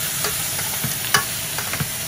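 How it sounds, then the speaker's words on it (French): Onions and garlic hit browned meat in a pot for a royal couscous, giving a steady close sizzle broken by a few sharp stirring scrapes and clinks, with no one talking. "dès que vos viandes sont bien colorées, on va y rajouter nos oignons et notre ail"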